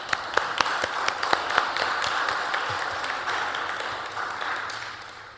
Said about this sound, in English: So let's give them all a good clap.